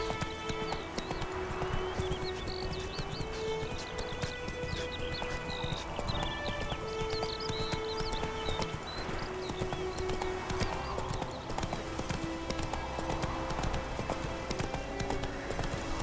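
Hoofbeats of Roach, a horse in The Witcher 3, clip-clopping in a steady galloping rhythm over a continuous game soundtrack and ambience, with a brief whinny partway through.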